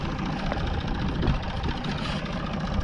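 A Massey Ferguson 250 tractor engine idling in a pasture, a steady low rumbling drone with faint knocking texture, moderately quiet and unbroken throughout.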